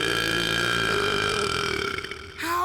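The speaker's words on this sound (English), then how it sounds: "just practicing for the next burping tournament." A long, loud, tonal burp from a cartoon character in the kids' show Rescue Bots rumbles steadily for about two seconds before trailing off.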